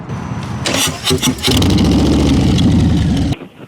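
A motorcycle engine, from a Harley versus Tuono comparison, cranks and catches, then settles into a loud steady idle before cutting off abruptly, heard up close with no talking.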